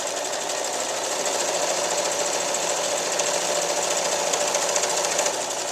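A sewing machine stitching rattail cord binding onto a quilt, a steady rapid mechanical whir and needle rattle running close and uninterrupted.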